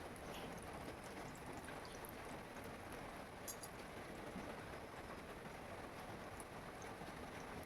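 Pieces of rolled atta and potato dough fry in hot oil on a tawa, giving a steady, soft, hissing sizzle that continues evenly throughout without talk.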